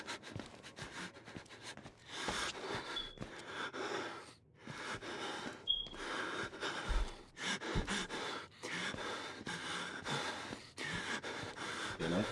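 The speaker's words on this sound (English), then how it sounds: "Bro, stop breathing like that," Heavy, ragged breathing of a frightened character in the horror game Outlast, continuous gasps and pants with sharp intakes, fairly faint under a dark game ambience.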